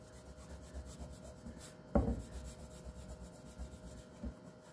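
A t-shirt rubbed over a paint transfer on furniture makes soft, steady scuffing and brushing strokes, quiet and close, with one sharper knock partway through.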